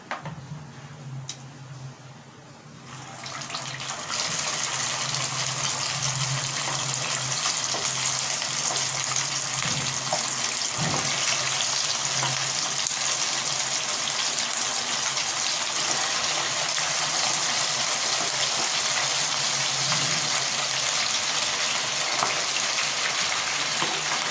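Schezwan chicken wings frying in hot oil: after a few quiet seconds a loud, steady sizzle starts and holds evenly, with scattered small pops and crackles and no talking.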